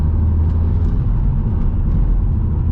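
An Audi S3 with a 300 bhp turbo engine drives at night, giving a loud, steady low rumble of engine and road noise with no distinct peaks and no talk.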